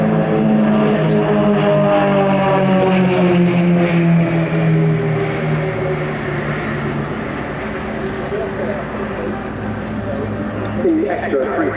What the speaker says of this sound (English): The Extra 330LX is produced by the aircraft manufacturer Extra of Germany, and is probably the smallest aircraft to display here today